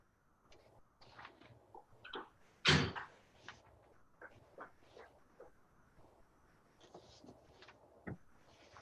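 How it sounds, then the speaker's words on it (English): A bedroom door swings shut with one loud, close thump, surrounded by quieter room shuffles, small knocks and footstep-like movement in an otherwise quiet indoor space. "Let me close my door."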